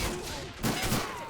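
Dense battlefield gunfire and rifle grenade blasts from the WWII game Men of War: Assault Squad, set in the first-wave D-Day Normandy landings. Overlapping shots and thuds keep up a loud, continuous barrage, with heavier bursts near the middle.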